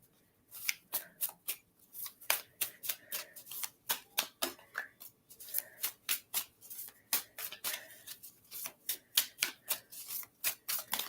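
Tarot cards being shuffled by hand in a steady run of crisp riffling flicks, repeating rhythmically for several seconds, close and fairly quiet with no talk.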